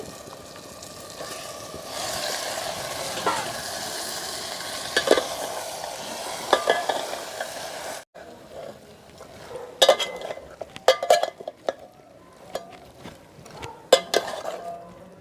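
One kilogram of chicken goes into sizzling masala in a pan, the frying hiss dropping after it lands, followed by clinks and scrapes as the pieces are stirred and coated.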